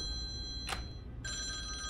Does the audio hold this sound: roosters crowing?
no